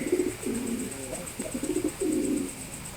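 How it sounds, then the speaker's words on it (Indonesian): Pigeons coo in repeated low, throaty bursts, close and steady, in a breeder's loft of racing pigeons bred from a Baronisty line, with a faint high hum running underneath. "Ini burungnya masih sehat"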